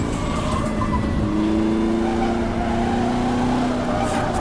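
A Formula Vee race car engine revs in a racing video game at Buenos Aires, a loud, steady, buzzing drone that rises and holds in pitch with no pause.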